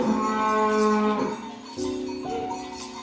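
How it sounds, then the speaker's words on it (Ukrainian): Cattle passing in the Carpathian mountains give long, loud, harmonic moos, two drawn-out calls one after the other, close and clear with no talk. "Коровки йдуть"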